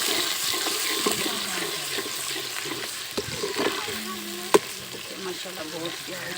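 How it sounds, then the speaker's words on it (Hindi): Masala with tomatoes frying in a pan, giving a continuous close sizzle with occasional stirring scrapes and a brief clack. "हमारा मसाला जो है आहिस्ता से भूनना शुरू हो गया है"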